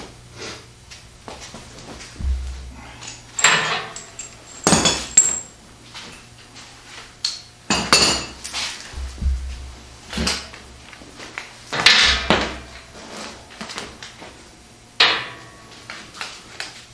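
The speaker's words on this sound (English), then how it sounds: "pull the front cover off." Front engine cover being removed from a 6.9 or 7.3 diesel, heard close as a series of sharp metallic clanks, knocks and scrapes of tools and parts at irregular intervals, with no talking.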